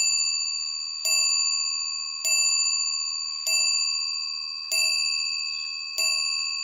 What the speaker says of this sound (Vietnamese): Rất vang ha, chuông đồng mà.